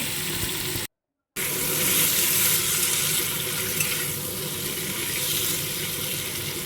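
Yam pieces frying in a pan give a steady, dense sizzle that runs almost the whole time, broken once by a brief silent gap, with no voices.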